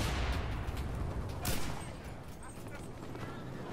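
Dense gunfire and explosions in the World War II shooter Enlisted, a continuous noisy battle wash with a louder burst near the middle, then steady background fire.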